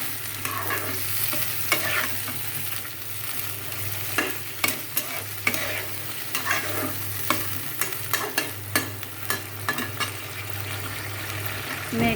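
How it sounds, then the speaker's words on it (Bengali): Vegetable stems and potatoes being stir-fried in a pan with a splash of water, a steady low sizzle underneath repeated scraping and clacking of the spatula against the pan at an uneven rhythm, close and moderately loud. "ডাটা আর আলুগুলো দেবো। একটু জল দিয়ে একটু কষাবো।"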